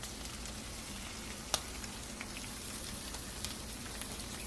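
Eggs frying in butter for a backwoods venison breakfast, a steady close crackling sizzle like light rain with a few sharp pops, no voices.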